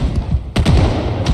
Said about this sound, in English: All the gunfire sounds like a war zone.